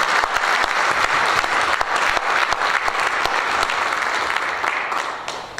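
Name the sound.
applause for candidates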